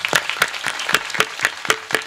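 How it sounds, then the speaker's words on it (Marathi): At a devotional kirtan gathering, the audience claps together in a steady rhythmic beat of about four claps per second. The clapping is close, crisp and even, with no talk over it. "टाळ्या वाजवा सगळ्यांनी"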